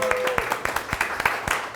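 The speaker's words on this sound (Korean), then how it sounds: "다시 한번 박수 부탁드립니다" A television studio audience applauds three football talk-show guests with scattered, sharp claps spaced unevenly across a short stretch, while a host's voice carries over the opening moment.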